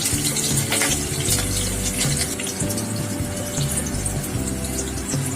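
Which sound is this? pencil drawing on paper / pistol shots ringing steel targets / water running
water running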